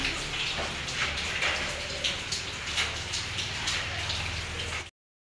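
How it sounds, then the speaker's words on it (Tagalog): Rain falling at a construction site, a steady patter of drops striking surfaces with scattered louder splashes over a low background rumble, lasting about five seconds. "Ayun na ulan guys."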